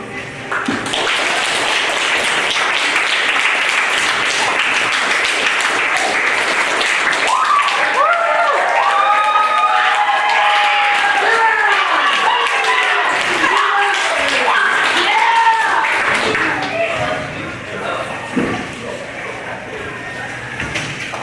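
An audience at an after-prom hypnotist show applauds and laughs, a dense wash of clapping that carries on for a long stretch, with voices and laughter rising through it toward the end.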